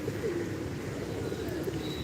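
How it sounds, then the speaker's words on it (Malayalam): Pigeons coo softly and continuously nearby, a low, steady murmuring with faint chirps in the background. "ഇപ്പം ഞാനിരിക്കണേൻ്റെ തൊട്ടടുത്തായിട്ട് പ്രാവുകൾ വന്നിരിക്കണേ കേട്ടാ"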